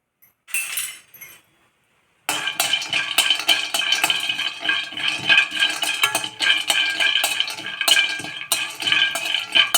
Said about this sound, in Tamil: பட்டை லவங்கம் நிலக்கடலை கொஞ்சம் முந்திரி இது கொஞ்சம் இப்போ வறுத்துக்கலாம்